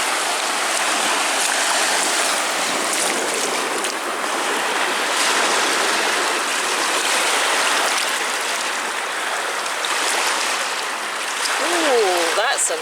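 River water sloshing and splashing as a mudlarking find is rinsed at the water's edge, a continuous close rushing wash with brief louder surges near the end.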